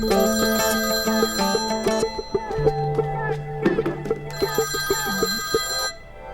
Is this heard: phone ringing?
yes